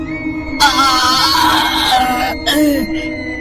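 A horror-story sound effect of someone screaming in pain: a loud, strained cry that holds for nearly two seconds, then a second shorter shriek breaks off quickly.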